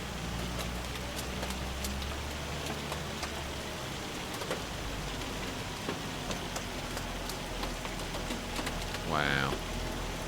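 Steady rain mixed with hail falls in the farming video game Farming Simulator 25, a dense continuous hiss with scattered sharper impacts, accompanied by a low engine rumble throughout.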